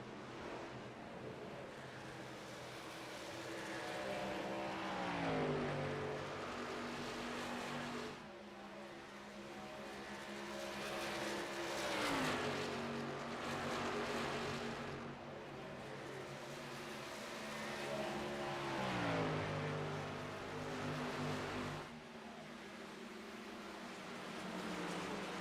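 Race cars roar around Darlington Raceway in an oval series race for the lead, a loud continuous engine drone with pitch sweeps as cars pass and shift, steady and dense throughout without talk.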